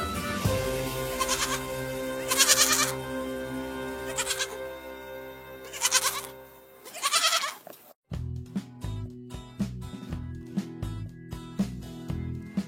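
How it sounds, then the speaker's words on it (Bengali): A goat kid bleats repeatedly in short wavering cries over a melodic children's song with music throughout. "ছয়ে ছাগল ছানা লাফিয়ে চলে"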